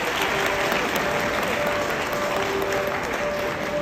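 Steady, dense applause from a crowd of guests at a wedding reception in a hotel ballroom, continuous and fairly loud throughout with no break.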